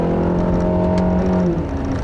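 A 2015 Acura TLX 2.4-litre four-cylinder engine revs hard past 5,000 RPM as VTEC engages, a loud, steady, rising drone heard close up from inside the car, with no talking.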